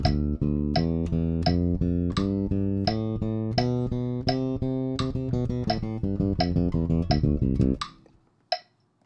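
Bass plays a major scale in the Ionian mode with two fingers per note, a steady run of plucked notes climbing and then descending faster, ending with one last isolated note after a pause.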